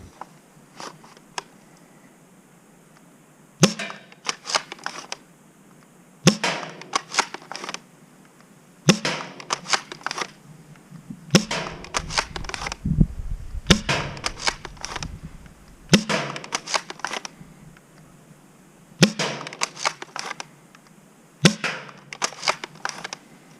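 Sharp pops of a Worker Prophecy foam dart blaster firing Worker foam darts, with and without a rifled barrel, about a dozen crisp shots at irregular intervals, some in quick pairs, with softer handling noises between.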